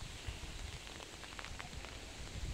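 Steady rain falls outdoors on a wet day, a dense, even hiss with soft scattered drop patters throughout, fairly close and with no voices.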